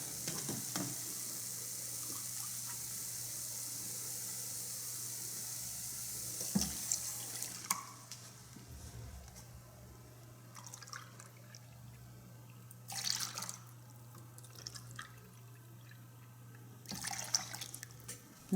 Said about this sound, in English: add 3 cups of milk